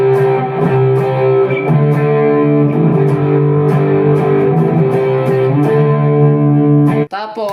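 Electric guitar played through a Mvave Tank G with overdrive and a touch of reverb, loud sustained distorted chords that change every second or so and ring on, ending in an abrupt cut.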